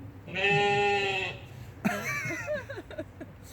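A voice imitates a sheep with a long, wavering nasal bleat, followed by a short burst of laughter-like vocal sounds, at a live comedy performance in a coffee shop.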